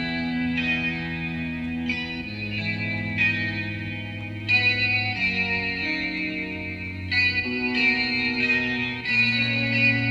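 A mellow, lo-fi synth melody loops over a steady bass line, with a chorus-like wobble and reverb. The same phrase recurs in a lower and a higher register.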